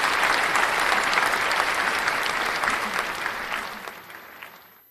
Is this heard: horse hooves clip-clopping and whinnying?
no